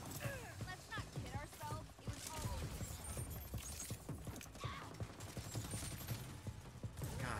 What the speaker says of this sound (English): It's a big ass SMG that doesn't run out of ammo.